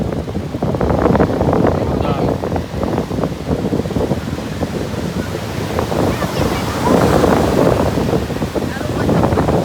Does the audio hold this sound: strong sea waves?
yes